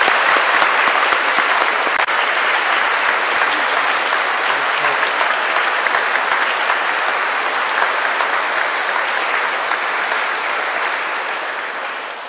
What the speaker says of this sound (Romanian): Vă invit să le folosim pentru a aplauda pe preasfințitul